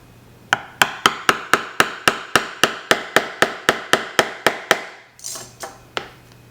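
New steel stitching chisels hammered into leather for a card wallet: about eighteen sharp, evenly spaced strikes in a quick steady rhythm, followed by a brief rustle and a few softer taps.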